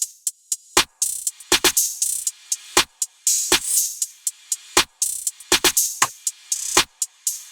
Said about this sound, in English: with a second open hat right here, you can create these little slides, chop them up like that